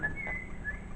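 Thin, high whistled notes come in short bursts over a low background rumble, faint and somewhat distant, like a bird whistling outdoors.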